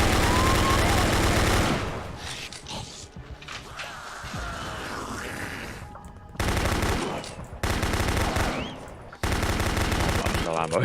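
A minigun in a zombie-shooting game mod roars in long, continuous bursts, loud and dense, with a quieter stretch of game noise and a brief voice between the first burst and the later ones.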